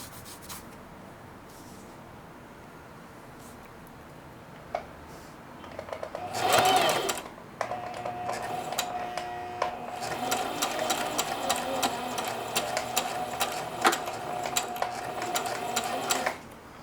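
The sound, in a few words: sewing machine sewing straight stitch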